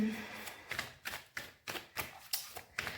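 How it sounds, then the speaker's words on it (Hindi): Tarot cards being pulled from a deck and handled, a run of crisp papery slaps and shuffling flicks about every half second, close and fairly soft, with no talking. "मुझे थोड़ा सा कार्ड्स को निकालने दीजिए।"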